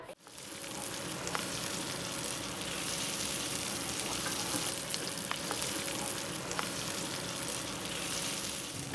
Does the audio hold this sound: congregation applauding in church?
no